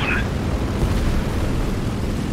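A torpedo explosion in a naval combat video game rolls out as a loud, sustained low rumble with a sharp onset, continuous and close for the whole stretch.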